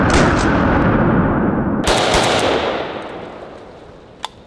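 AK Kalashnikov rifle gunshots: two loud, close reports, each leaving a long decaying echo, followed by a faint sharp click near the end.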